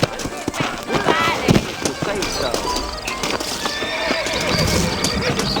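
Horses in a Western frontier town whinny loudly and close by in Red Dead Redemption, with clip-clopping hooves throughout and game dialogue running alongside.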